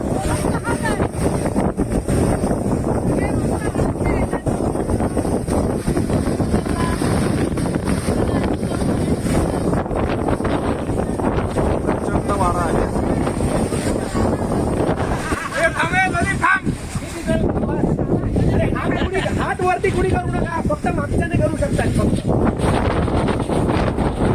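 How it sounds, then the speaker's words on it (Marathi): Strong wind at Amboli waterfall roars and buffets the microphone continuously, with water and boat noise beneath and indistinct voices of tourists mixed in. "प्रचंड वारा आहे"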